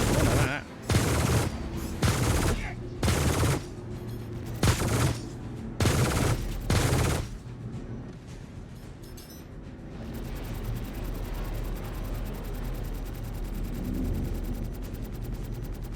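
Spaceship weapons fire in the space game Star Citizen, with loud repeated bursts in a ragged rhythm for about seven seconds, then a steady roaring rumble takes over.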